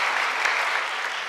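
A church congregation claps in a short, steady burst of applause during a sermon, dense and even throughout with no voices standing out.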